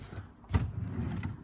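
A bedroom drawer slides open with a short, soft scrape and bump, heard alone and close against a quiet room.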